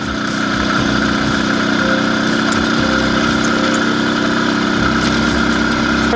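An IZh Planeta 5 motorcycle engine running steadily while riding along a forest road, with a loud continuous mid-pitched drone and slight rhythmic variation, close and unbroken throughout.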